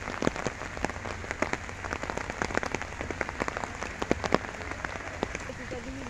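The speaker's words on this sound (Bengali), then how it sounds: "দেখেন বৃষ্টি হচ্ছে, প্রচুর বৃষ্টি" Heavy monsoon rain over a Bangladeshi wetland haor pours down steadily, a dense hiss studded with sharp scattered drops that patter like light clapping, continuous and close throughout.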